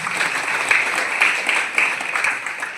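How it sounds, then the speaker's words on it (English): A leadership training audience breaks into sustained applause, a thick, even patter of many hands with a few sharper claps standing out, moderately loud and without speech. "Big clap once again."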